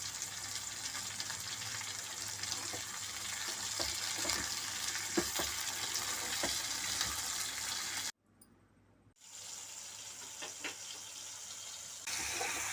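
Tomatoes sizzle and crackle steadily in a pan, briefly dropping to near silence before the frying resumes.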